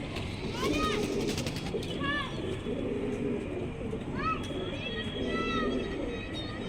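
Domestic pigeons kept for flying in Hyderabad's Old City call in repeated short warbling coos, close by over a steady murmur of background voices and outdoor noise.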